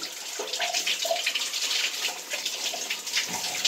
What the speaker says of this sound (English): So I'm going to rinse my hair out